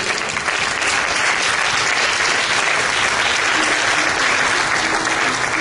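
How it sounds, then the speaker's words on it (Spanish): A church congregation applauds during a Christian service, a dense, steady wash of clapping from many hands that holds at full level throughout without a break. "Dale un aplauso a Cristo por eso."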